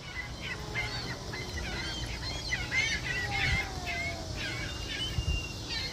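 Seagulls at Lincoln Park Zoo give repeated squawking calls at middle distance, layered over steady outdoor noise near the flamingo area.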